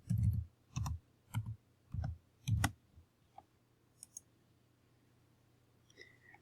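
Someone types a password on a computer keyboard while installing WampServer on Windows 10. About five sharp, evenly spaced key clicks sound close and alone, followed by a few fainter taps.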